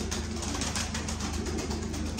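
Pigeons from a keeper's flock coo softly and steadily beneath a constant wash of broadband background noise, with no talking.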